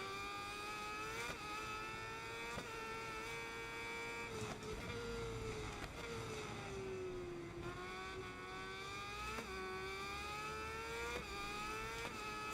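A racing motorcycle engine in the SBK 22 video game, holding a steady high whine with repeated sharp rev blips as the gears drop, loud and continuous throughout.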